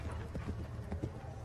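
Horse hooves thud softly during a showjumping round at an equestrian event, a quick uneven rhythm of muffled beats under a commentator's voice, fairly faint and mixed with background noise.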